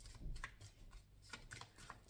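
Tarot cards drawn and handled, quiet papery slides and soft flicks in a short close-up burst.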